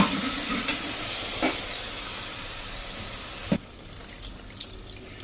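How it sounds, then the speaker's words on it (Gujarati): Water pours into a mixer jar holding a ground paste for a satvik undhiyu gravy, a steady hiss-like stream running about three and a half seconds before stopping, followed by a few small clinks. "તો અત્યારે હું અડધો ગ્લાસથી ઉપર એવું પાણી એડ કરું છું."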